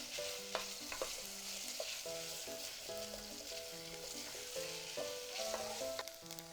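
Vegetables for chikuzenni, a Japanese simmered dish, stir-fried in oil in a pan: a steady, bright sizzle with occasional stirring clatter runs throughout, over a soft melodic background tune.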